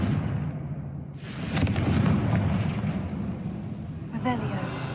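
A Confringo fire spell explodes in Hogwarts Legacy, a deep booming rumble swelling after a brief lull and lingering, with a faint spoken voice near the end.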